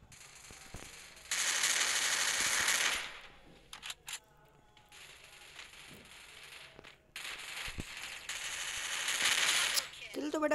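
Double-barrel shotgun blasts in an online shooter video game, loud sustained bursts of gunfire with brief gaps and mechanical clicks between them.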